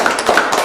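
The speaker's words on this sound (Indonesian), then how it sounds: "wah, tepuk tangan" A short patter of clapping hands from a small group, quick light claps across less than a second.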